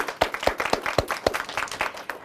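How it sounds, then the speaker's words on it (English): Brief round of clapping from elementary-school students after a derby match game, distinct individual claps in an irregular rhythm, fairly close and moderately loud, with no talk over it. "Round of applause for yourselves."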